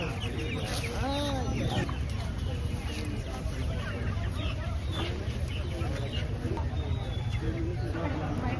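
Hens and roosters clucking and crowing during a poultry distribution to women's self-help groups, the bird calls mixed with steady crowd chatter and people talking close by.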